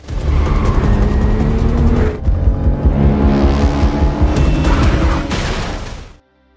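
In a film scene a car accelerates hard, the engine roaring loud and close with a sharp cut partway through, then the surging noise fades out abruptly at the end.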